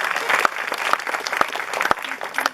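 An audience applauds at a community leadership tribute event, steady dense clapping from many hands in a room with a few sharper claps standing out nearby.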